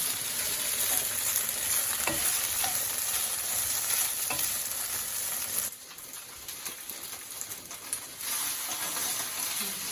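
Tofu sizzles loudly in sesame oil in a pan for a Korean stir fry, a steady close frying hiss with a few scraping stirs, easing briefly partway through before resuming.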